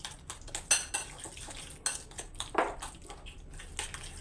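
A spoon mixing butter into sweet potato cake batter in a bowl makes repeated soft scrapes and light clinks in an irregular rhythm, close and fairly quiet, with no voices.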